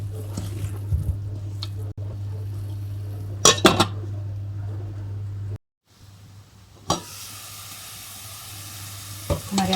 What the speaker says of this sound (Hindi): इन्हें हम अच्छे से मिक्स करेंगे और दोबारा ढकना देकर पकने के लिए छोड़ देंगे